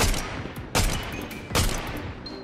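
Gunfire in the video game Fortnite: two loud bursts of weapon shots about three-quarters of a second apart, each trailing into a rattling decay, with no voices.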